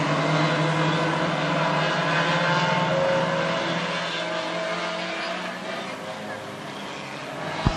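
Hornet class race cars lapping at Ogilvie Raceway during a heat race, their engines a continuous loud drone with shifting pitch, heard under a public-address announcer's voice.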